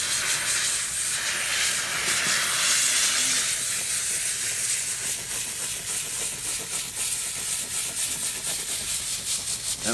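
A garment steamer gives off a steady, loud hiss of steam, continuous and close, with faint rubbing and rattling textures underneath.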